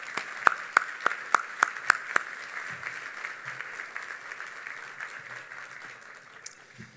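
Audience applause for K9 staff at a Salute to Heroes evening: a few sharp, close claps ring out first, then a softer, spread-out round of clapping from the room that gradually fades.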